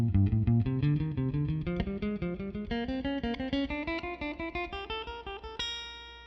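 Guitar finger exercise played as three notes per string using fingers one, three and four, a steady run of evenly picked single notes climbing in pitch, close and clear with no talking.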